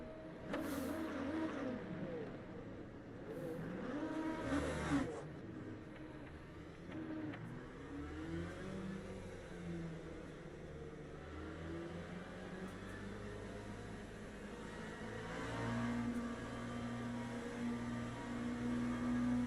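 LMP2 prototype race car engines in Le Mans Ultimate drone and whine together at a race start, a moderate, layered hum rising and falling over time with a couple of sharp knocks early on.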